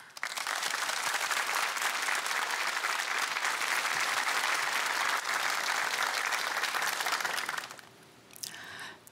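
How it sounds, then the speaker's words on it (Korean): A large TV studio audience applauds steadily for several seconds, dense and loud, welcoming a speaker, before the clapping fades out and the room goes quieter. "큰 박수로 맞이합니다"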